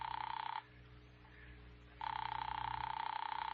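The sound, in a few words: telephone ringing in radio drama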